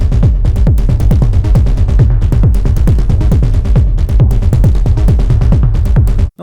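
Opening bars of a techno track built around a rumble kick: a dense, driving beat with deep pulsing low end, busy hats and percussion layered on top, loud and continuous until it cuts off abruptly near the end, no talking.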